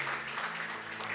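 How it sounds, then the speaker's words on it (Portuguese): Church congregation at a missions service applauding together, a short burst of dense steady clapping filling the room. "Vamos dar uma salva de palmas, né? Para o Senhor Jesus"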